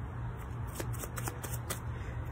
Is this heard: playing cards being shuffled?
yes